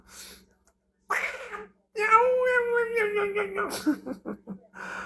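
A cat gives a drawn-out, wavering meow lasting over a second, preceded and followed by short bursts of human voices and laughter nearby.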